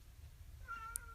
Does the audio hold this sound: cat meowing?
yes